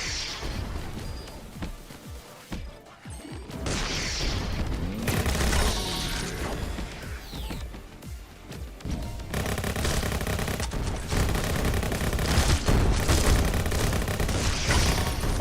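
Rapid, chaotic Skillshot City battle royale combat with grenade blasts and heavy gunfire, dense overlapping bangs and crashes continuing almost nonstop, loud and close.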